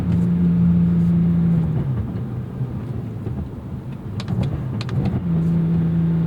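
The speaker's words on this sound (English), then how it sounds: "You can even hear the mechanical noises, right, as I'm shifting between these gears." Idling engine rumble of a 2001 BMW M3 E46, with the manual gearbox's mechanical clunks and clicks as it is shifted between gates; a steady low hum that dips briefly mid-shift, plus scattered faint knocks.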